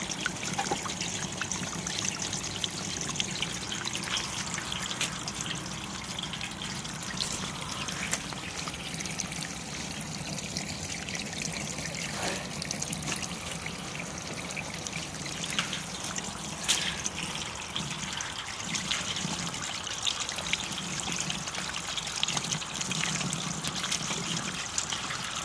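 Water trickling and splashing steadily through a self-cleaning irrigation creek strainer drum, an off-grid prototype with no power, heard as a continuous gentle outdoor stream with light drips throughout and no talking.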